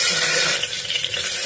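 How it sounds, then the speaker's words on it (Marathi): Chopped onion and two bay leaves sizzle as they hit hot oil for tempering in a pressure cooker, giving a loud, steady hiss and crackle with some stirring and no voices. "चला तर फोडणी करूया।"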